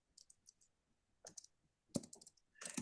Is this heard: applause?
no